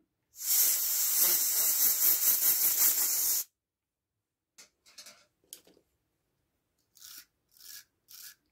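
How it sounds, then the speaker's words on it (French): A wire brush scrubs a carburetor part in rapid rasping strokes for about three seconds, followed by a few faint, scattered clicks and taps. "J'y passe un tout petit peu la brosse métallique."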